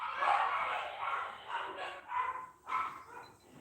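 Several dogs bark in quick succession indoors, a fairly loud, busy cluster of overlapping barks and yips heard alone without talk.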